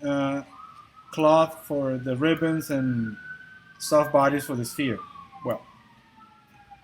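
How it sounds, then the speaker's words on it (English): An ambulance siren sounds from the street below, a thin wailing tone sweeping faintly through the background while someone talks continuously over it. "There's an ambulance downstairs."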